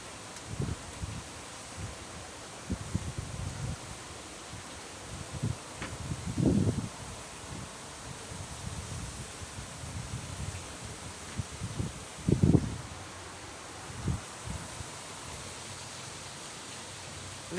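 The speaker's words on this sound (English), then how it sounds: "Here's a gust of wind." Gusts of wind from a tropical storm, the hurricane Idalia system, rustling a tree beside a house: a steady low roar of wind with several stronger rushing swells of rustling leaves, recorded outdoors with no talk.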